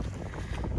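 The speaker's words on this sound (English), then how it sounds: "the wind is cold" Cold wind buffets the microphone on a steep Appalachian Trail mountain climb, a short burst of steady, rough, full-band rushing with no other sound.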